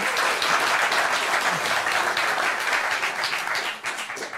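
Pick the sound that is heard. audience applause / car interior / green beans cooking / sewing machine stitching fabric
audience applause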